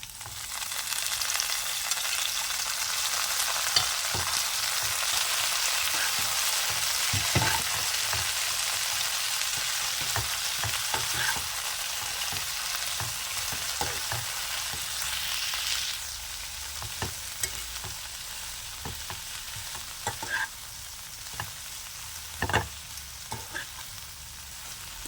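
Coconut and coriander leaves sauté in a pan, a continuous close frying hiss that softens partway through, broken by scattered stirring clicks and scrapes of a spoon.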